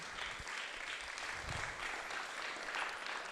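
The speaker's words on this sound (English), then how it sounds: "I'd like us just to give a big hand of applause to the 2 teams that have completed" Hands clap for two teams at the close of a climate change week event, moderately faint, continuous applause lasting a few seconds with a few low thumps underneath.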